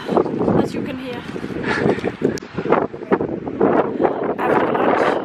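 Cold wind gusting across the slopes of Acatenango volcano in Guatemala, a loud, continuous rumbling buffet that swells and dips close to the microphone.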